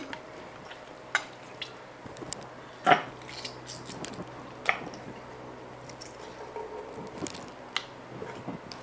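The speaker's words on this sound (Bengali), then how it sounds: "প্রথমেই আমি মটনগুলি ভালো করে জল ঝরিয়ে আরেকটা পাত্রে নিয়ে নিচ্ছি" Pieces of raw mutton being drained of water and moved into another pot, heard as wet squishing and scattered clinks and knocks against the vessel, close and intermittent.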